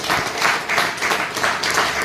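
An audience at a business event in Hisar, Haryana claps together in rolling, pulsing bursts, a lively close applause with no talking.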